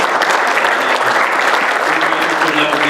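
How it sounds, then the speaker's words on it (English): Steady audience applause for the panelists at a crowdfunding panel event, a dense, continuous wash of clapping that holds at full strength from start to finish. "Please give us a round of applause to our panelists here."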